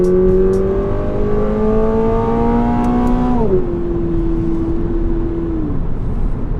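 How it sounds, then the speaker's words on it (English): A 2022 Toyota GR86 engine revving hard in manual mode, rising steadily toward redline before the pitch drops at a shift, then holding a steady drone that tapers off; loud and close with no talk. "it lets you rev all the way to red line and it will bounce off rev limiter if you don't shift."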